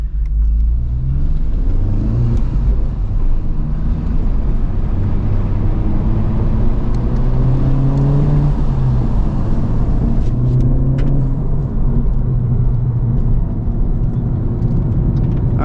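A 2023 Honda Civic Type R being driven on the Gingerman Raceway track, heard from inside as a loud, steady engine drone that rises and falls in pitch through repeated shifts, constant throughout with no talk.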